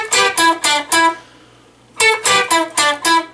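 A guitar riff from a song, played as two groups of four bright, punchy strummed chords separated by a short pause, close and alone.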